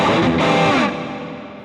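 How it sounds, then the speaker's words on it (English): A distorted guitar chord through an Axe-Fx II rings out drenched in excessive heavy reverb, a washy, smeared sustain that lingers and slowly fades. "And that is way too much reverb."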